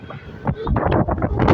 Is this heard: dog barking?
no